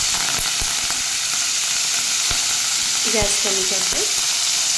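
Onion and curry leaves sizzle hard in hot oil seasoned with asafoetida, a loud, close, continuous frying hiss with a few sharper crackles. Someone speaks briefly over it.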